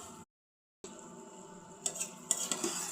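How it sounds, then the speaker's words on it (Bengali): Okra and shrimp being sautéed in a pan, a brief silence then a soft sizzle with scraping and clinking of a spoon against the pan, the stirring growing louder toward the end. "এখন ভেন্ডিগুলোকে আমি সুন্দর করে কষিয়ে নেব চিংড়ি মাছের সাথে।"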